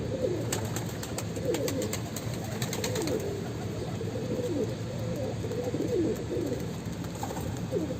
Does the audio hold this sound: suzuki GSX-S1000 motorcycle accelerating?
no